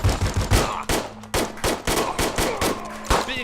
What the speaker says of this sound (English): although as it turns out, they did have a Gatling gun